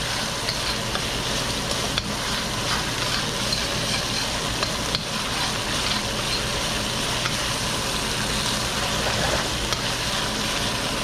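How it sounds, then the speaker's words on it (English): Mapo tofu ingredients fry in hot oil, giving a close, loud, continuous crackling sizzle with stirring throughout and no voices. "Cook this out in our oil."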